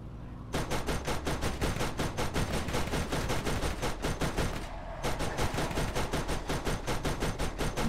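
Rapid automatic gunfire from a weapon in Borderlands, a loud, evenly spaced stream of shots that pauses briefly once and resumes, close and uninterrupted by speech.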